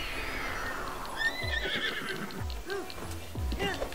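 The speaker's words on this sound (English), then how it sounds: "Let's call Sonic the Horse." A horse in Zelda Breath of the Wild whinnies loudly, then its hooves clop in a quick trotting rhythm, close and clear against a soft outdoor game ambience.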